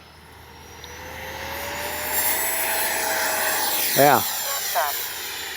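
An FMS Integral 80mm electric ducted-fan RC jet whines up and lifts off, its rising turbine-like tone sustained and fairly close, while someone briefly speaks over it.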